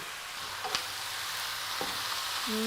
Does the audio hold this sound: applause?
no